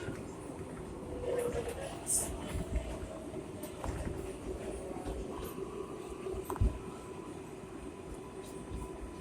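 A Flushing-bound 7 local train on the New York subway sits at the temporary platform at 33 Street-46 Street, with a steady low rumble, faint clanks and brief squeals, and occasional indistinct voices nearby.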